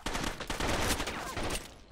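Blind fire from a G18 pistol in Rainbow Six Vegas 2 as a dense, rapid stream of loud close shots for about two seconds, trailing off at the end, with no voices.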